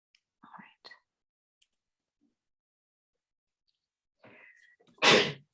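A single sharp sneeze bursts out near the end after a few soft whispered words and quiet pauses, close and abrupt indoors.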